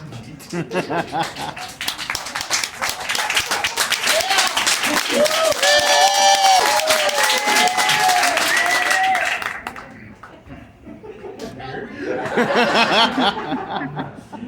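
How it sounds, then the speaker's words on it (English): Audience clapping at a magic show, a loud sustained patter of many hands with some chuckling, under a speaking voice, fading around the tenth second before a second burst of clapping near the end. "Somebody started to clap"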